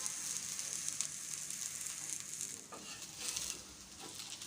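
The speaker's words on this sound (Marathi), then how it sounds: "मीडियम फ्लेमवर सर्व कबाब आपण शालो फ्राय करून घ्यायचे आहेत" Mutton shami kababs shallow frying in oil on a tawa over a medium flame give a steady, moderately loud sizzle with soft crackling spatters throughout, with no voices.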